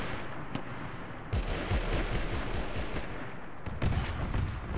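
Bursts of machine gun fire in the video game Arma 3 during a Warhammer 40k themed operation, rapid rattling shots at mid distance in several short volleys over a rumbling battlefield background.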